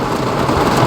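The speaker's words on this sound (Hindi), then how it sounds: "बहुत तेज बारिश हो रही है भाई लोगों" Heavy rain pours down steadily in a loud, dense wash with a low rumble beneath, close and unbroken, with no voices.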